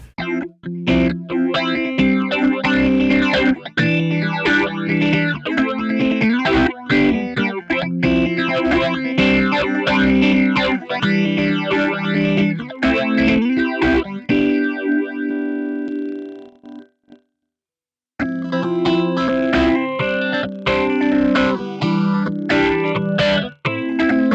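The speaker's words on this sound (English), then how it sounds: "And then the red mode is a 8-stage phaser." An electric guitar played through the red mode of a multi-modulation pedal, an 8-stage phaser, with loud, sweeping, distorted chords and notes that ring out, fall briefly silent, then resume for a few seconds.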